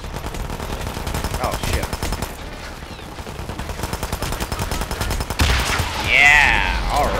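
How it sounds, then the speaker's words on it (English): Rapid, sustained enemy gunfire in Hitman: Absolution, loud bursts of automatic fire rattling almost continuously, with a brief exclaimed remark from a player partway through. "I love how the enemies are constantly shooting even though you're not anywhere near them."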